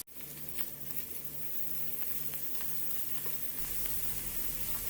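Grated garlic and ginger sizzle in ghee as a faint, steady frying hiss with scattered tiny pops, continuous for several seconds under a low background hum.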